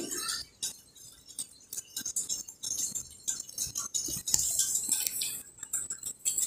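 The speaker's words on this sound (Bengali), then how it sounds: "তো আমি এদিকে মাংসটাকে নাড়াচাড়া করে দিলাম।" Chicken curry with potatoes being stirred in a pot, a metal utensil clinking and scraping against the sides in quick, uneven strokes, close and steady throughout.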